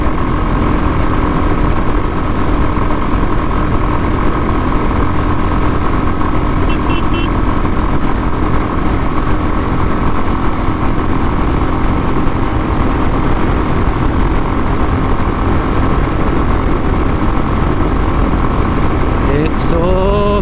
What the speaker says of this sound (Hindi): बाइक 100-110 तो बहुत ही आराम से जा रही है यार, 110 तक तो इतनी आराम से जा रही है।